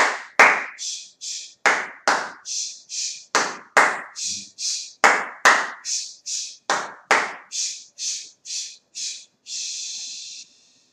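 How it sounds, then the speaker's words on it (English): Children perform a patterned clap: a long, steady run of sharp claps, each paired with a short breathy hiss, closing on one longer sustained hiss. The sound is close and clear with no talk. "give yourself the Chinese clap"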